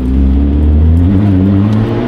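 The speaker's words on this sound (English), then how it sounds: "It's a lot more intimidating because of the noise, because of the acceleration, and because of the power that the Alfa is." Alfa Romeo 4C Spider engine accelerating, a loud steady droning roar with a sustained low tone rising slightly in pitch, close and alone with no talk.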